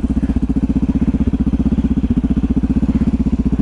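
The engine of a KTM 950 motorcycle drones while riding, a loud, rapid, even pulsing thump at steady revs that stays close throughout with no talking.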